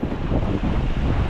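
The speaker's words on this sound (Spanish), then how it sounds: "el problema aquí es el aire. O sea, es que me cuesta mantenerme en pie" Strong sea wind hammers the microphone on a rocky shore during light spinning fishing, a dense, rumbling buffet that is constant and loud with no voices.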